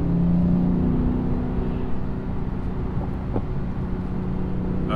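A Lexus RC F accelerates toward 65 mph during a brake bedding run, a steady engine drone with road and wind noise inside the cabin, fairly even in loudness throughout.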